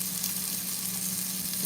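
Eggs and sausage frying in a pan for breakfast, giving a steady, dense sizzle that holds evenly throughout with no pauses and no talking.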